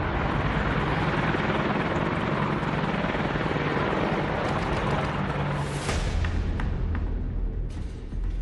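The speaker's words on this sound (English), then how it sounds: "On the ground, a pair of formidably armed Apache helicopters lifts off." A pair of heavily armed Apache military helicopters lifting off from the ground, a loud, continuous rotor and turbine roar with chopping texture, close and steady, rising in pitch near the end.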